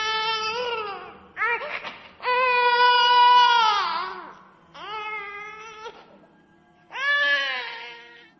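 A small child cries as a sound effect in a horror story set in a children's hospital, with several loud wailing sobs separated by short pauses and breaths, close and clear.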